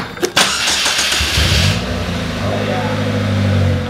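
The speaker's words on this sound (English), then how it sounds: "this is a cold starter on a 2017 Polaris Slingshot" A 2017 Polaris Slingshot cold-starts with a brief cranking whir, catches with a loud flare of revs, then settles into a steady, fairly loud idle.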